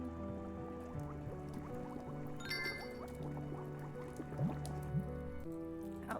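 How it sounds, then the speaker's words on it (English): Water boiling in the game Children of Silentown gives off soft bubbling and gurgling pops over a quiet background of sustained musical tones, with no speech. "Ah, the water is boiling."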